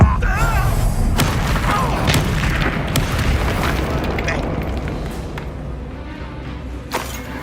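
Confringo spell blasts from Hogwarts Legacy give a dense stretch of booming, rumbling combat effects with sharp cracks scattered throughout, loud and continuous and gradually easing off.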